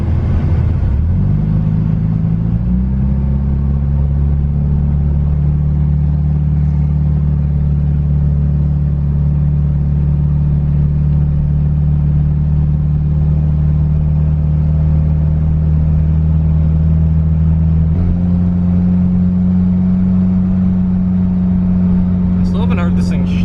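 A rebuilt 1991 Mitsubishi Eclipse GSX drives off, its engine droning steadily from inside the car, rising briefly at the start and again near the end as revs change, with some talk over it.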